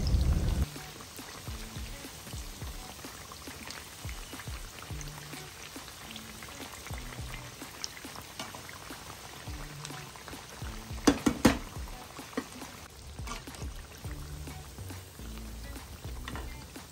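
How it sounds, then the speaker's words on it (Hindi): Bread pakoras frying in hot ghee, a soft continuous bubbling crackle with scattered pops, a louder cluster of sputters midway, no talking. "अब वक्त है इस ब्रेड पकौड़ा को पलटने का ताकि दोनों तरफ से इवनली फ्राई हो जाए"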